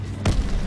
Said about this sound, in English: No altitude bomber inbound. Dropping incendiary.